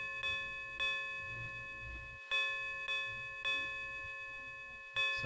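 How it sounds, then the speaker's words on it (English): Emergency bells in Tales of Phantasia ring out in bright, harmonic strikes, about seven spaced chimes with ringing tails over a soft game backdrop. "The emergency bells ring."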